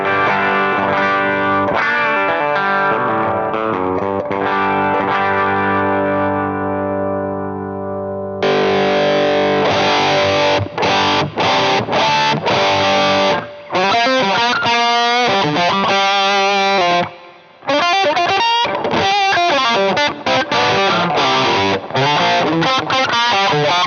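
An electric guitar runs through a Zapped Up Yours all-tube distortion pedal, sounding first as a sustained ringing chord and then as loud, saturated riffs with choppy stops and short gaps, played alone.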